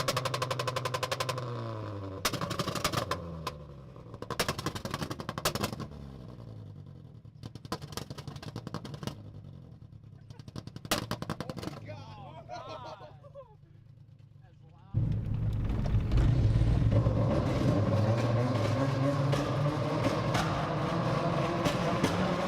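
A Honda car doing two-step launch control at a prom fires off sharp backfire pops in loud bursts, followed by a sustained engine roar, with people talking around it.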